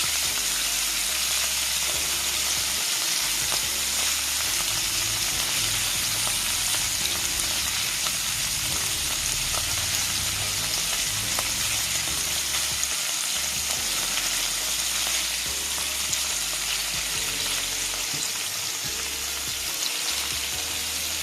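Paneer cubes frying on a low flame for a mater paneer, giving a steady, dense crackling sizzle that runs unbroken throughout, close and fairly loud with no talking.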